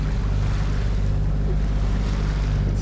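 A sailboat motor-sailing along the Australian east coast in light nor'easterly wind: a steady low engine drone under continuous wash of waves and wind rush against the hull, close and unbroken.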